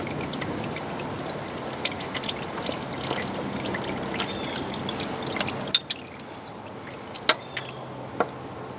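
Transmission fluid drips and trickles from the pan of a 2011 Nissan Altima 2.5 SL with a CVT. Liquid pours steadily, then sharp, separate drops follow, close and fairly quiet.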